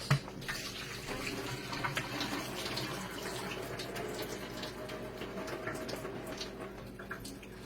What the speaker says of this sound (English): I'm just going to drain the excess water out.